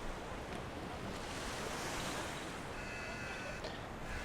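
Ocean surf washes steadily along sandy Akumal Beach in Mexico in the early morning, a soft continuous roar mixed with wind buffeting the microphone, with no voices.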